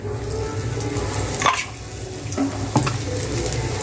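Oil sizzles steadily in a pan on a gas flame while chapati and egg cook, a continuous close crackle broken by a few sharp clinks of a utensil.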